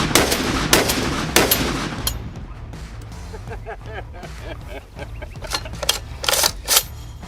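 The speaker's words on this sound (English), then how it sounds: "Mag dumping into trash in 3," Rapid bursts of gunfire from a Barrett M82A1 rifle being emptied of its magazine, several loud sharp cracks in quick succession, followed by lighter mechanical clicks and rattles with brief voices.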